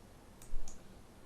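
A computer mouse clicks a button twice in quick succession. Both are faint, sharp clicks over quiet room noise.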